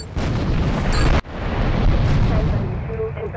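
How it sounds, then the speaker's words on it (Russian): A plane blows up in the video game GTA 3 with a loud, sustained explosive roar, a brief cut, and then a second rumbling blast that slowly fades. "Блин, самолет второй раз подорвался."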